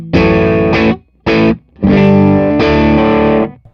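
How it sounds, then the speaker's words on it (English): Electric guitar played through a distortion pedal with an effects unit engaged, loud sustained chords in several bursts separated by short gaps, heard alone without talk. "I'll kick the distortion back on, and we'll mess with the phase switch."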